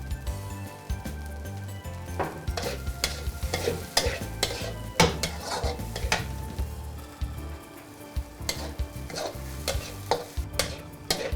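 Ghee goes into a pot of tandoori chicken biryani, which fries with a steady close sizzle while a spoon stirs and scrapes repeatedly against the pot. The stirring comes in uneven rhythmic strokes, with no talk.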